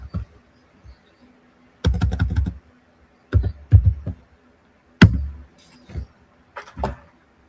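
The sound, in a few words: typing on a computer keyboard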